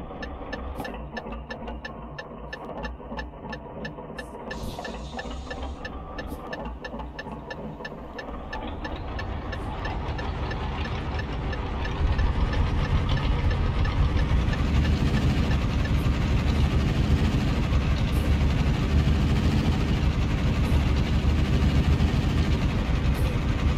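A Fiat FNM210 truck mod's engine in Euro Truck Simulator 2 hums low at first with a light ticking, then swells into a louder, steady droning rumble that holds through the rest.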